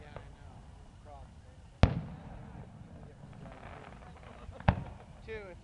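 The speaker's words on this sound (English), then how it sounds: "that's like Harry Potter's fireworks right there" Canada Day fireworks bursting over an outdoor celebration in Orillia, two sharp booming explosions a few seconds apart with crackling tails, over a murmuring crowd and nearby chatter.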